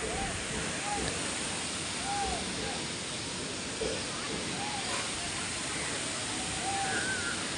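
Thirparappu waterfall in Kanyakumari pouring forcefully, a loud continuous broadband roar with faint high chirps or voices scattered through the wash.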